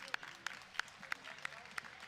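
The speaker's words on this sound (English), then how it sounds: "a big round of applause here from the crowd" A crowd at an MMA event applauds, faint and distant, with steady, evenly spaced claps standing out over a soft wash of audience noise.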